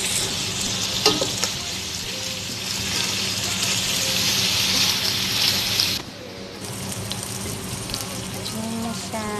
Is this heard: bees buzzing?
no